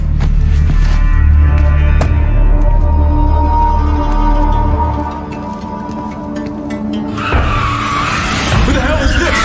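A car in the Medal of Honor Warfighter video game roars and skids with sustained tire squeal and engine drone, easing off midway before a fresh burst of screeching near the end.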